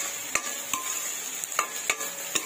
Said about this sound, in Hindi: हमें बीन्स को ज़्यादा पकाना नहीं है, हमें इसको कम ही पकाना है